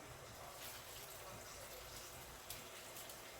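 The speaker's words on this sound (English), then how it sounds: "Now I'm going to add some water." Water pouring into a cooking pot for a Jamaican-style porridge of peanut and oats, a steady, continuous, fairly quiet gushing stream lasting the whole moment without a break.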